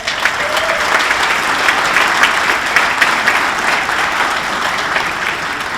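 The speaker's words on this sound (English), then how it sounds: "Let's give a big round of applause to our title sponsor of the St. Joseph Area Sports Hall of Fame" A large crowd applauds at a sports hall of fame induction ceremony, dense and loud sustained clapping that swells slightly in the middle and carries on without talk.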